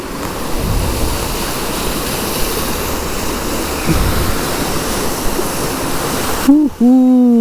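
A monsoon waterfall plunges from a great height in a steady, loud roar of rushing water that fills the whole clip, with a brief, sharp break near the end.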